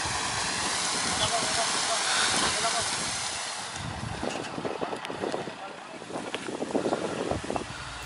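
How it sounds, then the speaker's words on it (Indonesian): Small locomotive on a long-disused lori track pushing through tall wild grass, a steady hissing, rushing drone with rustling bursts, windy and fairly close, under occasional talk. "lokomotif kembali menerjang rumput ilalang lagi teman-teman"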